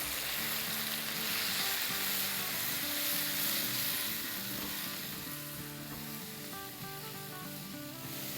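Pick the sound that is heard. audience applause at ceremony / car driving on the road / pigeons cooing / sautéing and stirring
sautéing and stirring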